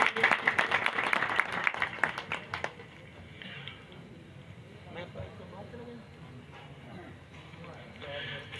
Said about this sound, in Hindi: उसके लिए मैं गुजारिश करूंगा आपकी भरपूर तालियों में उस्ताद अब्दुल हक साहब से